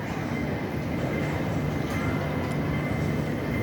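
A Hong Kong airport train arriving, a steady rumbling rush of wheels and motor filling the platform, close and continuous with no voices.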